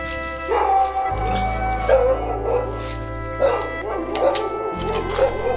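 A dog gives repeated sharp barks and yips in a steady series at moderate distance, heard outdoors over a low continuous engine-like hum while someone is out cycling.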